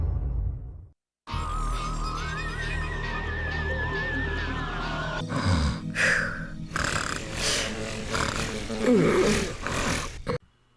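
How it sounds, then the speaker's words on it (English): A voice actress performs an exaggerated fake snore for a 10-year-old boy in a Ben 10 game cutscene, loud drawn-out nasal snores under music and effects. "this is the fakest 10-year-old boy snoring I have ever heard"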